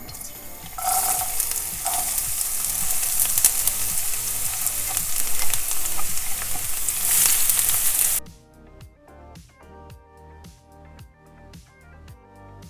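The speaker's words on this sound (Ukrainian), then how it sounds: "І обсмажую на середньому вогні приблизно 3-4 хвилини." Steady loud sizzling of onion and carrot frying in hot oil over medium heat with occasional stirring, cutting off abruptly to quieter background music.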